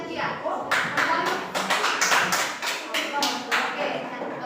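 A classroom of students claps for a group in a mathematics lesson, a burst of roughly ten sharp, fairly close hand claps in a loose rhythm over a low murmur of voices.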